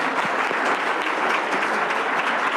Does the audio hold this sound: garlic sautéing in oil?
no